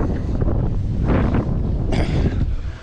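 Strong gusty wind buffets the microphone aboard a sailboat in loud rumbling bursts, with faint water and boat sounds underneath.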